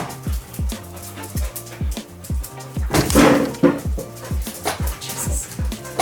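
Two dogs playing together indoors bark now and then in the background, with one louder burst of barking midway, partly under a steady repeating musical pattern.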